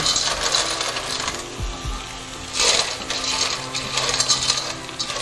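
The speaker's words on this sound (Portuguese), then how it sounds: "Amassa os tomatinhos." Cherry tomatoes are mashed in a pasta pot on the stove, with bright metallic clinks and scrapes of a utensil against the pot over a soft sizzling background. Nobody speaks.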